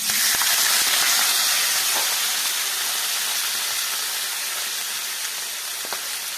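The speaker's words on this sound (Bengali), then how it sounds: "তেল হয়ে গেছে, দিয়ে রাখা ঝিঙে আর পেঁয়াজ একসাথে তেলের মধ্যে দিয়ে দিচ্ছি" Ridge gourd and onion dropped into hot oil in a home kitchen: a loud, steady sizzle and hiss, strongest at first and easing slightly, with faint pops and stirring clicks.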